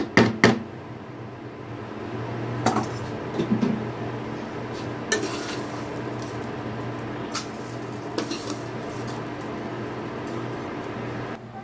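Ghee-fried vermicelli scooped out of a pan, with sharp metallic clinks and scrapes of a spoon against the pan at irregular intervals over a low steady background hum, close and fairly quiet.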